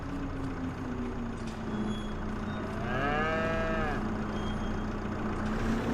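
Cows in a barn in Farming Simulator 25, one long clear moo over a steady droning vehicle engine, with no voices.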